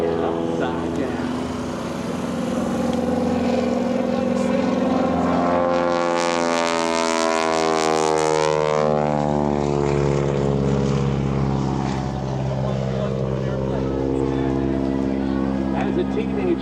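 A highly modified Stearman biplane, a former World War II U.S. Navy trainer with injected fuel and oil systems, flies aerobatics at the EAA AirVenture 2025 airshow. Its loud propeller engine drones and sweeps in pitch as it passes overhead while a narrator talks.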